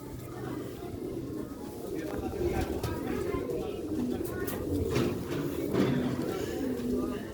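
Pigeons coo softly among a flock of green pearl-spotted rooftop pigeons and their chicks, a low steady murmur of cooing over a busy background with faint voices nearby.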